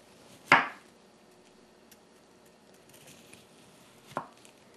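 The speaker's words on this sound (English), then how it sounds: "I'll use a sharp knife and cut it to be about 3/4 of an inch thick" A sharp knife cuts through a block of frozen vegan ice cream, producing two crisp, isolated knocks against the board a few seconds apart, close and otherwise quiet.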